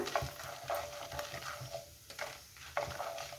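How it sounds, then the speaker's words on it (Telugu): Hot oil crackles and sizzles steadily up close as spices temper in it, with a spoon stirring and scraping through in short repeated strokes. "పోపులు కొంచెం వేగాయి కదా"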